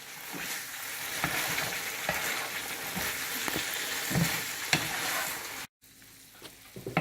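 Paneer and spice masala stirred in a pan over a low flame, with a continuous sizzle and rhythmic scraping strokes before a brief silence near the end.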